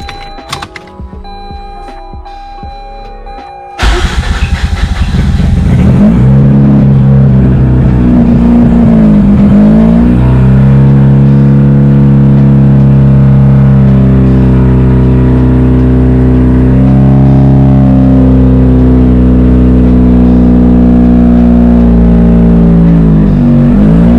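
A Mazda RX8 rotary engine cranks with a thunk and catches, then idles and revs in rising and falling swells, loud and close with no talk.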